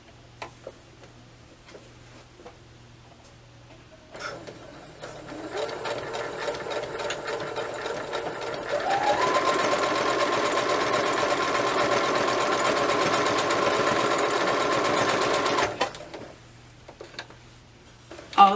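A sewing machine stitches closed the waist opening of a skirt, starting with a few short bursts, then running in a steady, fast, close whirring chatter for several seconds before stopping; no one speaks.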